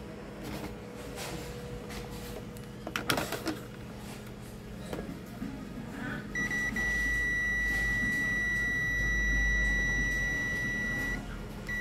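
A multimeter on diode test gives a steady continuous beep against a shorted output diode in an LED driver, sounding alone for several seconds after a few brief clicks and handling noises.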